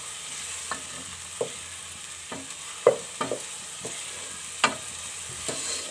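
Onion and garlic being stirred in a pan before tomatoes go in, with scattered clicks and scrapes of a spoon against the pan over a faint, steady sizzle.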